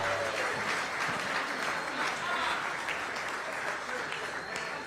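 An Aurora crowd applauds and cheers for the city's mayor at a live innovation event, a dense, steady roar of clapping and voices throughout, with speech mixed in.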